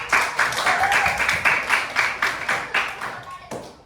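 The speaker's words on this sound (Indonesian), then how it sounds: "Tepuk tangan untuk" Children clap together in a classroom, a steady run of sharp, fairly close claps lasting several seconds, with a faint voice briefly audible among them.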